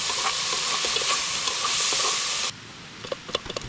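Shallots and pickled scallions fry in a pot at a forest camp cookout, a loud, dense sizzle and bubbling hiss that cuts off sharply partway, followed by scattered pops and crackles.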